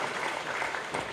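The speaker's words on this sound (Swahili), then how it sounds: "wapigieni makofi mengi sana" A brief burst of dense audience clapping at a secondary school academic awards ceremony in Iringa, continuous and fairly soft, with no voices.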